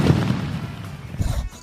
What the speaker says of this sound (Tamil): சிலுக்க வெடியா, ஸோ பேப்பர் பாம்.